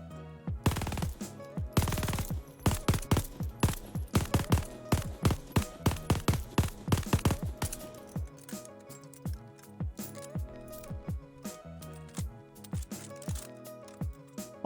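A gold MG42 machine gun fires in a video game: fast, loud, sharp bursts come close together at first, then thin into slower, more spaced shots.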